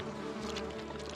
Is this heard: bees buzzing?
yes